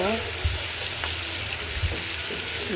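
Onion and tomato sizzling and frying steadily in a pan, a dense continuous hiss with a few faint stirring clinks, close and moderately loud.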